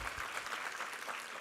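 Church congregation clapping together at a Sunday service, a steady dense wash of applause filling the whole moment without pause.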